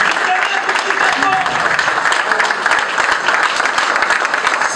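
Unbroken applause from a crowd of FCC party supporters honoring Joseph Kabila, many hands clapping densely and loudly, with crowd voices woven through.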